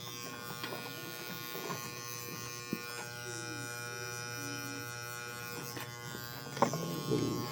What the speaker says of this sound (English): now I'm gonna go just clean up all these loose hairs that are behind my ears and everything with the closer trimmer that I have